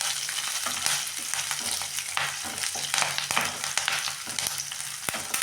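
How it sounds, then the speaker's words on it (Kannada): Curry leaves and dried red chillies frying in hot oil, a steady dense crackle and sizzle with brief sharp pops and a few stirring scrapes, close and continuous with no talk. "ನೋಡಿ, ಚಟಾಪಟ ಅಂತ ಸೂಪರಾಗಿ ಇದು ಎಣ್ಣೆ ಫ್ರೈ ಆದರೆ ತುಂಬ ಚೆನ್ನಾಗಿರುತ್ತೆ"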